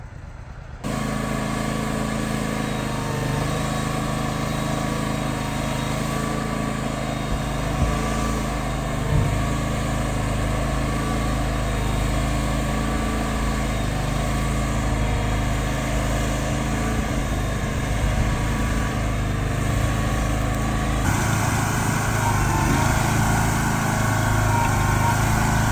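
A translift truck engine drones steadily and loudly as it hauls an oversized mobile home out of a narrow driveway, holding a constant hum with a slight change in tone near the end.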